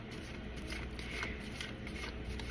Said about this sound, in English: I just pull from the back and just shuffle lightly.